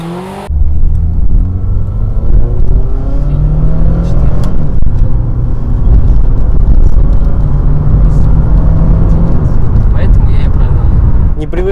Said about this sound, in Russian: Давай, разгон с места.